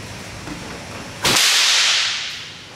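A Shaolin whip swung in basic practice gives one sharp, loud crack after a quiet lead-in, with the noise trailing away over about a second.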